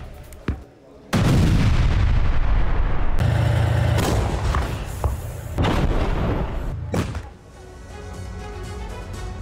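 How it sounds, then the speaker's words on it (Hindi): Russian artillery fires in Avdiivka during the war in Ukraine, loud booming blasts and sustained roaring bursts close by, with heavy low rumble between shots. "अवदीवका में रूस के आर्टिलरी हमले, यूक्रेन के कई सैन्य वाहन नष्ट हुए, कई यूक्रेनी चौकियों पर रूस की गोलाबारी।"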